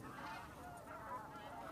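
Migratory birds such as Baikal teal at Junam Reservoir wetland, faint distant honking calls from a flock over quiet ambience, very brief.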